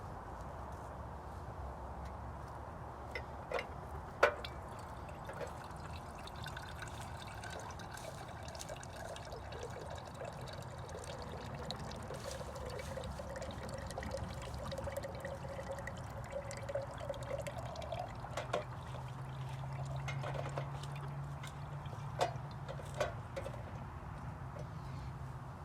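Fresh sugarcane juice streams steadily from a countertop cane press into a container, a continuous liquid trickle over a low motor hum with occasional small clacks, close and moderately loud.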